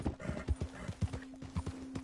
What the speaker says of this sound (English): Our horse, my horse is coming with us.